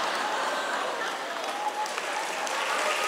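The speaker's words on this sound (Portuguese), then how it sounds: "Não sei por que você aplaudiu isso" An audience at a conference applauds, a dense, steady wash of clapping that holds evenly for a few seconds.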